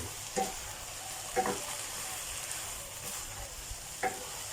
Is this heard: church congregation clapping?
no